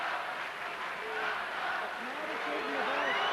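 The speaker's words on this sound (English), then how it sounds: "the crowd really now getting very angry" An angry tennis crowd at a 1995 Bruguera versus Larsson match, a dense, sustained roar of many voices with whistling tones rising through it, steady and loud throughout.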